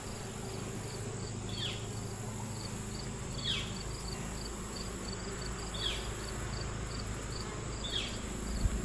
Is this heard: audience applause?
no